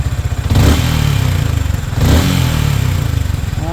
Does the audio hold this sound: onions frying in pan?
no